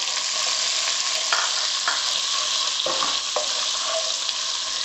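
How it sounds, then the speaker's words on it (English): Onions fry in a pan with a continuous, bright sizzling hiss, broken by a few soft stirring scrapes and clacks, close and steady with no voices. "now I'll fry the onions"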